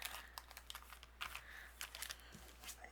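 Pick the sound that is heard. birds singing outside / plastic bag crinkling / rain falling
plastic bag crinkling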